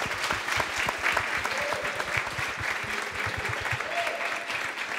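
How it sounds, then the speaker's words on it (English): An audience at an event in Madagascar breaks into sustained applause, dense steady clapping heard up close and filling the whole stretch, with a brief voice or two faintly mixed in. "Can you guys take them by applauding?"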